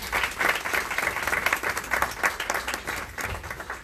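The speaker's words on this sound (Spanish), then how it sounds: "para quien pido un aplauso" Warm, continuous applause fills the hall at an international literary translation symposium, a dense crowd clapping at an even level for a few seconds.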